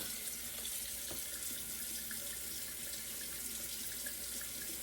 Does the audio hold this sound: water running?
yes